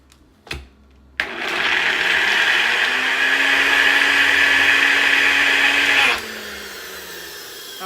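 A countertop blender whirs steadily for about five seconds, loud and close, blending Brazil nuts with water into nut milk; a brief clunk precedes the motor starting, and the motor cuts off abruptly, leaving a fading hum.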